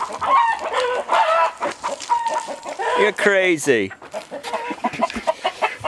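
Chickens cluck and squawk nearby on a small farm in a busy flurry, one rising into a loud crowing call, while a person speaks briefly.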